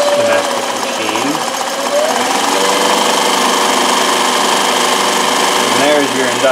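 A Consew CN2053R-1A industrial sewing machine with a servo motor runs at high speed, making a loud, continuous, close mechanical whir and rattle with steady pitch that lasts the whole time, with no talk over it.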